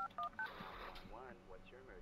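A phone dialing 911 in a video game, three short bright keypad tones in quick succession followed by a voice talking.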